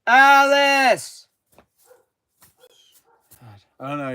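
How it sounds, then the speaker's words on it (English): A loud, drawn-out harmonic bark or yelp from a nearby dog opens, followed by scattered faint noises, then another strong, tonal bark near the end. "I don't know if you guys can hear that barking or not."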